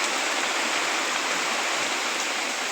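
Heavy rain pours over a village under dark skies, a dense, continuous rushing wash of water that is close and fairly loud, with no voices.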